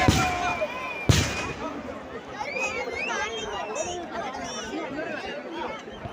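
Firecrackers at the Nenmara festival, one sharp close bang early on amid a lively crowd, with people chattering loudly throughout and more distant pops trailing after.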